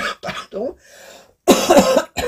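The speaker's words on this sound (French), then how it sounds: "je tousse encore" A man with lingering flu coughs several times in short, harsh bursts, closely miked, with a louder cough cluster in the middle.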